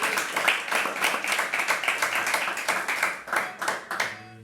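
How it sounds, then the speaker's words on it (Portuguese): A church congregation claps in a dense, sustained round of applause that fades into a few scattered claps at the end. "Pode aplaudir."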